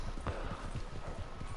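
A horse's hooves clip-clop along at a steady walking rhythm in Red Dead Redemption 2, the even, low thuds fairly quiet and alone.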